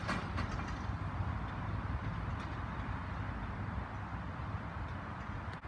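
A class 313 electric train rolls into Littlehampton station, a steady rumbling wash of wheels and motors heard from the platform, moderately distant with faint clicks.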